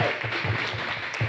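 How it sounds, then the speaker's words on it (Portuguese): A church congregation applauding during a Portuguese-language worship service, steady clapping from many people with a faint voice underneath, moderately loud throughout. "E pode aplaudir o Senhor bem forte."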